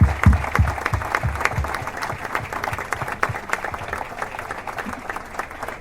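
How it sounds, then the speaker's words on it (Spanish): Audience applause after an interview with rejoneadores Pablo and Guillermo Hermoso de Mendoza, sustained dense clapping from a crowd that stays loud throughout. "Un aplauso, por favor"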